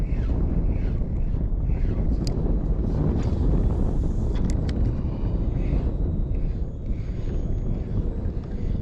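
Strong wind buffets the microphone on a fishing boat near shore trees, a loud continuous rumbling roar with faint clicks and rattles of gear over it.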